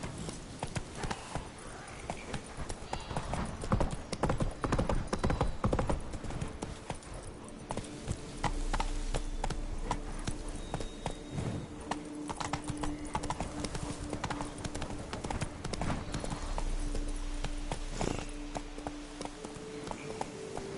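Roach the horse gallops in The Witcher 3, hooves clip-clopping in a fast steady rhythm over a continuous outdoor ambience, with a faint whinny mixed in.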